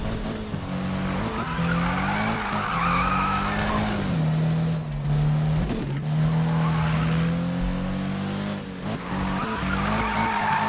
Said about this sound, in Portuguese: A galera disse que o RX-7 é muito bom fazer drift